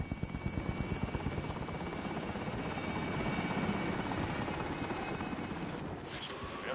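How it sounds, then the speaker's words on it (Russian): A helicopter arriving in Call of Duty Warzone gives a rapid, steady rotor chop with a droning engine whine, holding loud and close throughout. "Вертолет прибыл."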